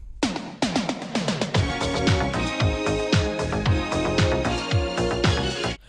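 An upbeat 1980s pop song plays with a punchy, regular drum beat and bright synth chords, loud and continuous.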